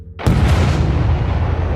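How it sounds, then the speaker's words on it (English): Massive bomb blast at the Jordanian embassy in Baghdad, a sudden loud boom that erupts after a brief quiet and rolls on as a dense, sustained rumble. "Massive explosions at the Jordanian embassy."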